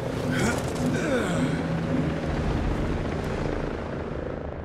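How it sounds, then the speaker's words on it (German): A helicopter approaching in the video game Ghost Recon Breakpoint: a steady, moderately loud rotor whir with rhythmic chopping, under other game noise and voices. "Und jetzt kommt auch noch ein Heli."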